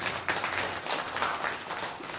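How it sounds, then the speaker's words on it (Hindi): An audience claps at a cooperative urban society's annual function, a dense, moderately loud patter of many hands that swells and eases over about two seconds. "जोरदार तालियां एक बार।"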